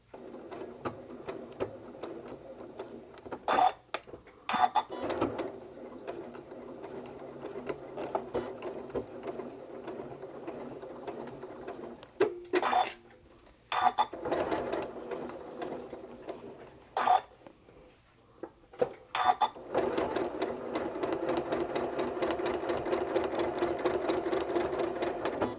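A home sewing machine with a walking foot stitches a placemat in bursts of rapid, steady whirring chatter, broken by several short pauses, close and fairly loud, with the last stretch running continuously.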